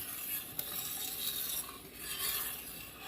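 A pot of elderberry and blackberry jam is stirred off the heat as it cools, with soft, quiet scraping and swishing of a spoon, one small click, and faint bubbling, without any talking.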